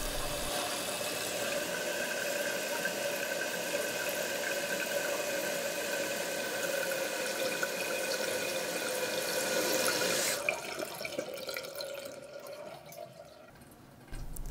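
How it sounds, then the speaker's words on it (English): A toilet tank refills with water, a steady rushing hiss running for about ten seconds before the flow cuts back to a quieter trickle near the end, with no talking. "empty a little water out of the tank to allow the tank to fill back up"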